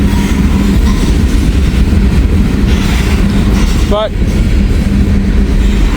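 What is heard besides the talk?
train passing on the rail line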